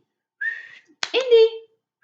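A person whistles to call a dog indoors: one short steady note, then a longer whistle that swoops and falls, both close and clear against a silent background.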